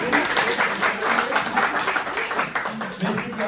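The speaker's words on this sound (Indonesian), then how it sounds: "tepuk tangan boleh buat Mas Patrick, teman-teman" Audience applause and scattered clapping at a student stand-up comedy public speaking event rise under a lively crowd, with a voice talking over it throughout.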